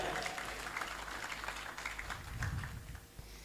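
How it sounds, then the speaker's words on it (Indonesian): Applause from a gathered audience after a rendition of the Indonesian national anthem Indonesia Raya, a steady dense patter of many hands held at moderate distance with no voices on top. "Tepuk tangan untuk Indonesia Raya"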